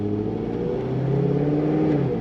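A supercharged 2008 Chevrolet Corvette engine revs up, its tone climbing and holding in a steady mid-pitched growl, close and fairly loud with no talking.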